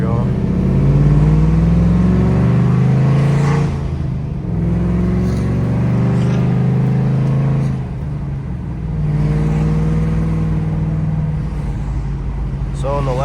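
A 2010 Mustang GT with a straight-pipe exhaust, long-tube headers and an X-pipe drives through town, its deep engine rumbling and rising through revs in loud waves while someone talks over it.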